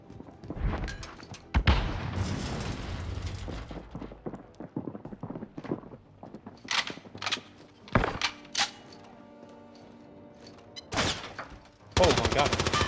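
Gunfire rattles in Call of Duty Cold War Warzone, with scattered bursts and single shots, mechanical clacks and a heavier volley at the end, while players talk over the action.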